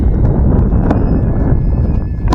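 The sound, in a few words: strong wind blowing into the microphone outdoors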